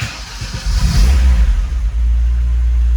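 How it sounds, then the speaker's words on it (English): Lada Niva engine cranking and catching, then revving briefly with a deep rumble before settling into a steady loud idle, close by. "we're gonna turn it right to start the car and accelerate a little bit at the same time"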